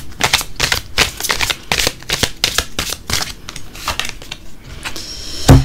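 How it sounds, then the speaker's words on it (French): Tarot cards are shuffled close up in a series of quick riffling, flicking bursts with an uneven rhythm, ending in a soft tap. "on va encore tirer 3 cartes"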